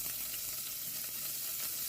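Crushed garlic and ginger sauté in hot oil for a salmon fish curry, giving a steady, close, dense sizzle that holds an even level throughout with no voices.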